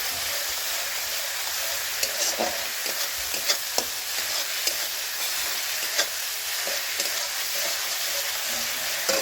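Ivy gourd curry sautés and sizzles in a pan, a continuous close frying hiss broken by scattered clicks and scrapes of stirring.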